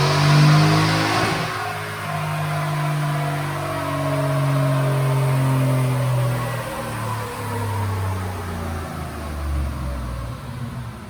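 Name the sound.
Ford F150 Roush 5.0 Coyote V8 revving on dyno pull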